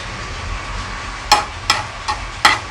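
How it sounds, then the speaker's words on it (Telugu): Dried red chillies and mustard seeds fry in oil under a low, steady sizzle, broken by four sharp, bright clinks or pops spaced about half a second apart, close and fairly loud. "4 ఎండుమిర్చి వేస్తున్నాను."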